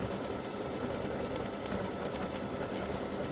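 An embroidery machine runs nonstop, stitching the white section of a freestanding-lace awareness ribbon with a steady, dense, fast mechanical whir at close range.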